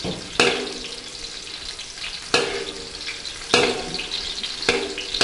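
Diced pieces frying in a pan, a continuous crackling sizzle broken by several sharp scraping clatters as the food is turned over, close up.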